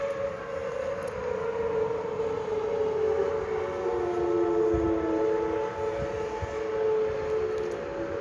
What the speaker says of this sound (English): I think Westcom set off the sirens because there might actually be a warning.